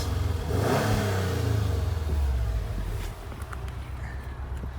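A Subaru WRX STi Final Edition's 2.5 litre flat-four engine, exhaling through four exhaust pipes, burbles and revs up close, with a loud rising rev at the start that settles back into a throbbing, uneven idle.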